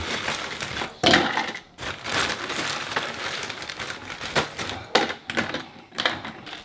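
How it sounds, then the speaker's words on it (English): Ice cubes dropped into a glass of coffee during a kitchen drink prep, giving a run of loud clattering and clinking hits spread over several seconds, close by and with no talking. "Put the ice in."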